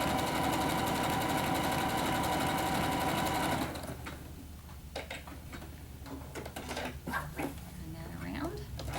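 Sewing machine stitching a quilt sampler block, running loud and steady at first, then stopping and giving way to handling clatter and a voice talking.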